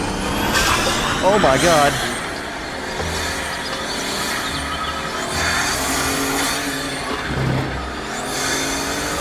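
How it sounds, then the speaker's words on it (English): A modded supercar in Unturned roars under full throttle, its engine and turbo loud and close for about nine seconds with a steady high whine, while a voice breaks in with a brief exclamation. "these things have so much emphasis on the turbo sounds"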